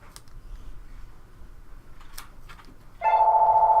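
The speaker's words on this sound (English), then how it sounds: "And that's the phone." A telephone starts ringing with a loud, steady electronic tone near the end, following a quiet stretch of faint room noise and a few small ticks.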